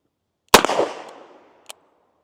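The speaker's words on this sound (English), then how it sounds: "Let's go ahead and shoot some more double action." A single sharp shot from a Smith and Wesson Model 19 revolver fired double action outdoors, a loud crack with a decaying echo tail, followed by a faint metallic click about a second later.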